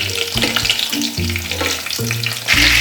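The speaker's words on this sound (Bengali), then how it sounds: "আমাদের রসগোল্লাগুলো ভাজা হয়ে গেছে" Rasgullas frying in hot oil for a spicy rasgulla dish, a steady close sizzle broken by low clattering stirs at a fairly even rhythm, with no voices.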